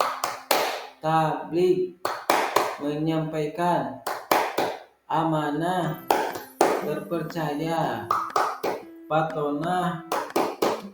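A classroom clapping chant: sharp, rhythmic hand claps alternate with voices chanting in unison, with claps falling in tight clusters between the spoken phrases.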